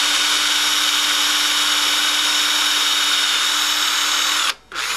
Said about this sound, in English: bring the drill down to a low angle when you drill through just the flange